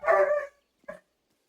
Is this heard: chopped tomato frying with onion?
no